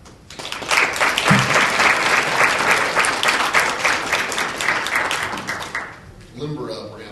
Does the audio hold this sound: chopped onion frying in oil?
no